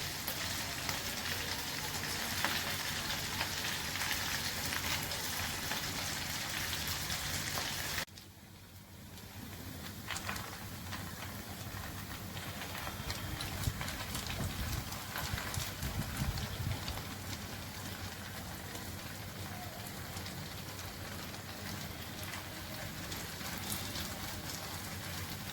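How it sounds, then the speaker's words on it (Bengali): Food fries in hot oil with a continuous crackling sizzle that stays loud and even, dipping briefly partway through before settling back into a steady, slightly softer hiss. "এগুলো একটু সাবধানে ভাজতে হবে।"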